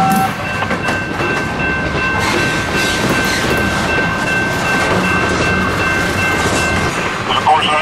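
A CSX freight hauling flat cars of steel rolls steadily past nearby, a constant heavy rumble with rhythmic wheel clatter and faint high squeals throughout.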